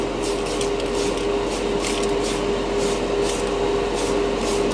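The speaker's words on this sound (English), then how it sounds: "nothing sprays better than a Tamiya can" A Tamiya spray can hisses out paint in a run of short, close bursts over a steady background hum, with no voices.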